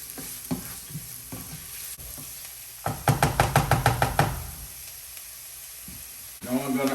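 Food stirred and sautéing in a pan while making lasagna, with soft sizzling, a short run of rapid rhythmic knocks of a utensil against the pan in the middle, and more clatter at the end.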